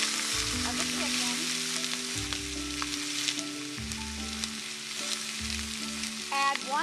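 Chicken hind quarters frying in the bottom of a soup pan, a steady close sizzle and crackle with occasional stirring and clinks, and a low tonal hum beneath.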